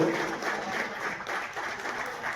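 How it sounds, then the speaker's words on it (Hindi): Audience at a Chhattisgarhi film meetup breaks into steady, dense applause to welcome a guest, a continuous wash of clapping that fills the short stretch without pause. "जोरदार ताली से भैया सुंदर के स्वागत करते हो।"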